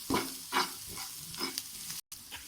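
Raw chicken being mixed by hand with pepper powder and salt, giving a few wet, squelching stirring strokes at an uneven rhythm, close by, with a brief silent gap near the end.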